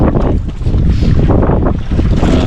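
Loud wind buffets the microphone in heavy, rumbling gusts on a fishing boat at sea, with a broad rush of open water.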